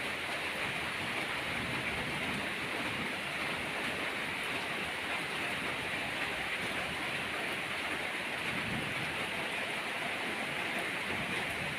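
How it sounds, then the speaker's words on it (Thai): Steady rain falls in a continuous broadband wash of even, dense noise at moderate loudness, with no distinct thunder claps standing out and no voices. "ฝนตกฟ้าร้องนะครับ"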